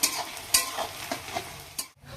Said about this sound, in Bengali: এখন পেঁয়াজটাকে আগে লাল লাল করে সুন্দর করে ভেজে নেব